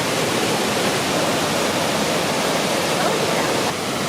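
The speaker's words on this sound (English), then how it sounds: "Right in that cave right there is where a huge pool of the water is shooting out from the bridge." Water gushes out of a lava tube cave in Oregon as a loud, dense, steady rushing roar, constant throughout with no pauses.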